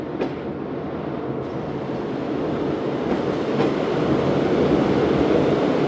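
Karachi Express train running just after leaving Raiwind Junction, a loud continuous rolling rumble with faint clicks of wheels on rail joints, heard from on board and slowly building in intensity.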